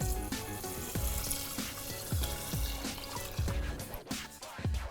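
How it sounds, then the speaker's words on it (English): Tap water runs into a cooking pot as it is filled to cook rice for fried rice. The close, steady gushing stream carries faint rhythmic knocks and splashes, with no talking. "let's get the water in here"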